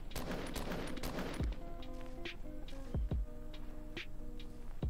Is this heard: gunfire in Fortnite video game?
yes